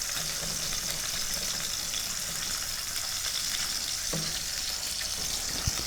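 Olives and other ingredients sauté in a hot pan, giving a steady, broad sizzle and frying hiss throughout, close and even, with a couple of faint clinks.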